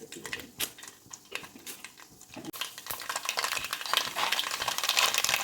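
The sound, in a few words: mustard seeds spluttering in hot oil in a pan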